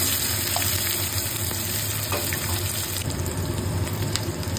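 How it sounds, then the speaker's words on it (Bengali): Chopped onions fry in oil with blackened cumin seeds, making a continuous close sizzle with light crackles throughout, fairly even in loudness. "এবার আমি পেঁয়াজ দেবো"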